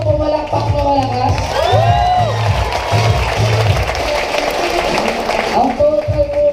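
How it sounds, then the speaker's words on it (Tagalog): Audience clapping and cheering at a seminar, crowd applause with whoops running under music with a steady beat and a voice, fairly loud throughout. "pumalakpak na malakas"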